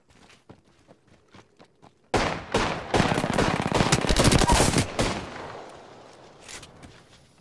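Video game gunfire: a few sparse single shots, then a loud sustained burst of rapid automatic fire that tapers into scattered echoing shots.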